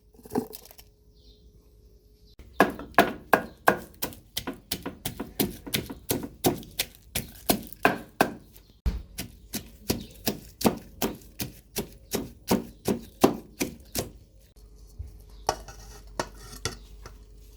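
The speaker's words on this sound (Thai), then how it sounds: "โขลกพริกแล้วก็ เอาปลาทูใส่นะคะ แล้วก็โขลกให้ละเอียด" Chilies pounded in a mortar for a Thai soup of boiled cassod flowers and mackerel: a long run of steady, rhythmic thuds, close and loud, with a brief pause midway and quiet stretches at the start and end.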